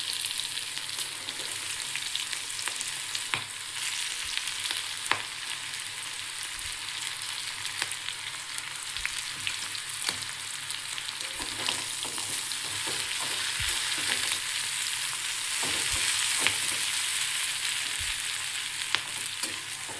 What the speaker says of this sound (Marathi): त्यामध्ये कापून घेतलेली भेंडी टाकून चांगलं परतून घेऊया.